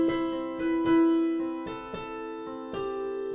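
Piano chords from a song sound in a gentle sequence, the bass line walking downward beneath sustained harmonies, played at a relaxed pace with no voices.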